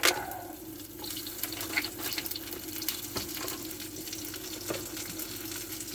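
Sausages and black pudding sizzle in a frying pan aboard a boat for breakfast, a steady close crackle and hiss running throughout with small pops and scrapes, no voices.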